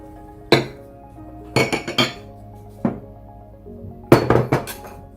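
Spices for super crispy fried chicken being mixed in a bowl, several bright metallic clinks and clatters of utensil against the bowl in separated bursts, close and clear over a quiet background.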